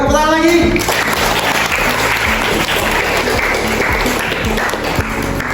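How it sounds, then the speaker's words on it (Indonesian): A class of students applauds during a teaching session, loud sustained clapping close by, with a tonal sound fading out at the start and a faint voice underneath. "ya tepuk tangan lagi"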